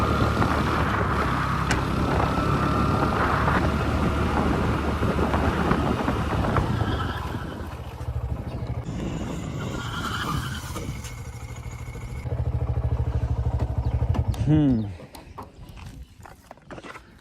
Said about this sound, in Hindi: करते हैं ब्रेकिंग टेस्ट को स्टार्ट।